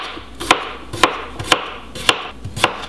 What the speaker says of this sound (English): cut down through until you have some nice small chunks of green pepper